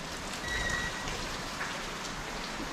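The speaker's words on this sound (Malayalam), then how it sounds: "നല്ല അടിപൊളി മഴ" Heavy rain pours down in the dark during a road trip near the India–Nepal border, a dense, constant hiss that holds at one level with no talk over it.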